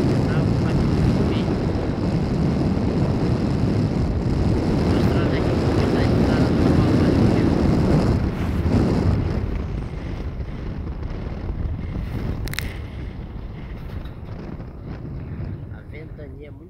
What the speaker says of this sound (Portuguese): ventania muito forte